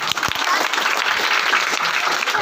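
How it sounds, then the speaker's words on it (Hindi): Loud applause from an audience at a Teacher's Day cultural program at a coaching center in India, dense steady clapping from a crowd with a voice briefly audible. "जोरदार ताली।"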